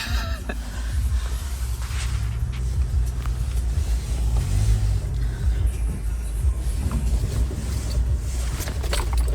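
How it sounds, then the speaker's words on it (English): A Subaru car driving down an unplowed, snowy road toward an island cabin site: a steady, loud engine and tyre rumble with wind noise, continuous throughout and without talk. "we're gonna try driving down the road for the first time in a while"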